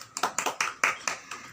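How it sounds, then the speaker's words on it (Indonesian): A small class in a microteaching lesson claps in a quick rhythmic pattern, about eight sharp, close claps in an even beat with no talk. "Bagus buat Ega, tepuk tangan."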